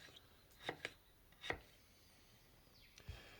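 A kitchen knife slices halved potatoes against a cutting board for Spanish tortilla, giving three or four sharp, distinct chops with gaps between them, close and fairly quiet.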